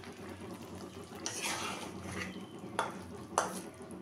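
Tangra fish curry bubbling in a pan after radhuni paste is added, a faint simmering hiss with soft stirring and a couple of brief clinks of a utensil against the pot.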